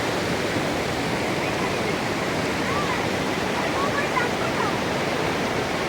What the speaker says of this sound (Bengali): দেখুন কেমনভাবে জলের বেগগুলো হচ্ছে